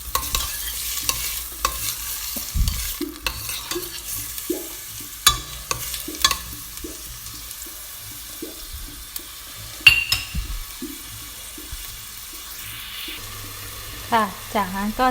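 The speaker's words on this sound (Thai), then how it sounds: "ผัดให้หอมหัวใหญ่หอมนะคะ" Sliced onions being stir-fried in a pan while a beef-and-carrot Genovese stew is cooked, with a steady sizzle broken by repeated scraping stirs and clatters up close, and one brief clink partway through.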